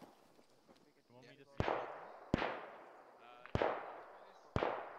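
Distant gunfire from a Thompson submachine gun in a video game: four sharp, echoing reports spaced about a second apart, each trailing off, with faint talk in between.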